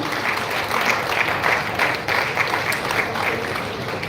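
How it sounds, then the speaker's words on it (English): An academic conference audience gives a sustained round of applause, a steady wash of many hands clapping at moderate level, with a few sharper individual claps standing out. "Let's give a huge round of applause."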